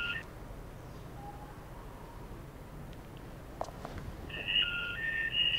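Mobile phone ringing with an incoming call, a loud electronic ringtone rising in over a quiet room and repeating in a steady patterned melody near the end.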